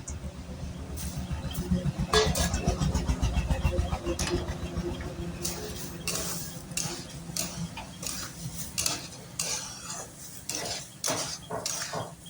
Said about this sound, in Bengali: তারপরে চাল আর ডালটা ভালোভাবে নেড়ে চেড়ে মিশিয়ে নিতে হবে